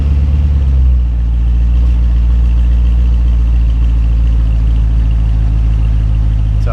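The stock exhaust of a Cadillac CTS-V wagon idles after a remote start, a deep, loud, even rumble close by that settles slightly after the first second, with no talking.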